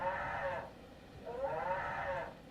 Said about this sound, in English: Incessant bleating continuously.